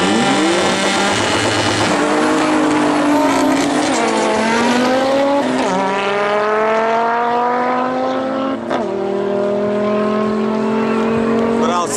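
A Mitsubishi 3000GT launches from a race start, its engine screaming up through the gears in rising sweeps with brief dips at each shift, loud and close, with voices talking underneath.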